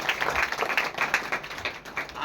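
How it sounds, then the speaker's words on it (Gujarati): Congregation clapping during a Bible sermon, a brisk rapid patter of hands, moderately loud and uneven, with voices mixed in. "તાળી પાડો તો ખરા"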